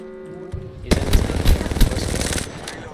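Automatic gunfire in Apex Legends, a loud close rattle of rapid shots that breaks out after a brief quiet start and keeps going in choppy bursts to the end.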